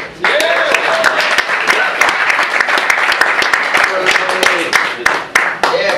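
A comedy club audience claps and cheers for a stand-up comedian, a dense burst of applause with sharp individual claps and a few whoops, loud and close, over about six seconds.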